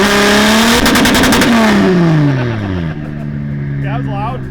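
A tuned sports car engine, a C8 Corvette or big-turbo Supra, revs loudly and close by, its pitch sweeping up and falling away across a few seconds before settling to a lower drone.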